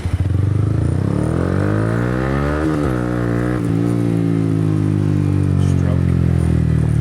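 A Yamaha MT-15 motorcycle rides through Saigon traffic. Its engine revs up and down in smooth, rising and falling pitch sweeps, loud and close, over a constant road rumble.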